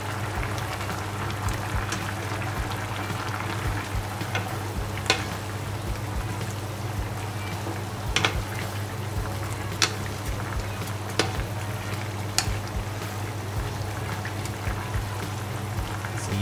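Thai kaeng tepo curry with Chinese sausage bubbling as it heats in a pot, a steady close simmering hiss dotted with scattered small pops and ticks, no voices.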